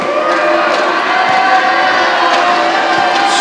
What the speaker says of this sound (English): It's a full crowd here.